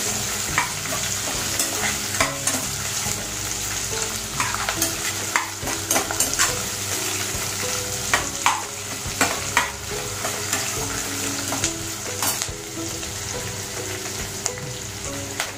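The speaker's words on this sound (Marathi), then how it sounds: "आपला आता हा कांदा परततोय" Onion sautéing in a pan for veg kurma, a steady soft sizzle of frying with frequent scraping stirs of a spoon against the pan, close and continuous with no talking.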